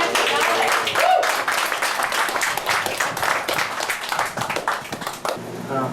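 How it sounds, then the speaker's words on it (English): A group breaks into dense applause and cheering that runs throughout, loud and close, with a voice briefly heard within it. "And a round of applause for all of us."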